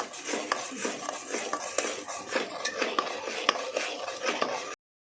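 A spoon scrapes and clinks against a cooking pan in quiet, irregular strokes as turmeric and chili are mixed in. The sound is close and soft, with no talking, and ends abruptly.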